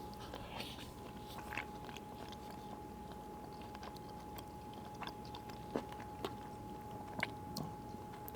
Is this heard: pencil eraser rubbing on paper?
no